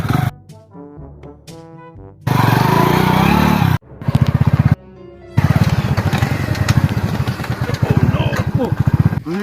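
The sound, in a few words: motorcycle engine running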